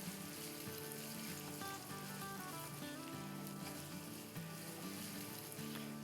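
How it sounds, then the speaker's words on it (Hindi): Fried onions going into hot butter in a pan for a chicken curry, giving a steady dense sizzle that holds evenly throughout with a faint rhythmic tone underneath and no talking. "चले अब इसमें हम डाल देंगे आधा कप तली हुई प्याज"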